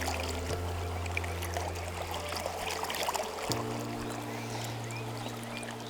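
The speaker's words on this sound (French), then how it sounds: "On vire l'eau, on change l'eau." Water is poured and emptied from a gold pan while panning gravel by hand, a soft trickling and splashing close by over a low steady hum, with no talking.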